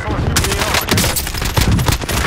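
Rapid gunfire from behind in Warzone comes in loud, close bursts of shots over a brief stretch, with a voice talking over the shooting.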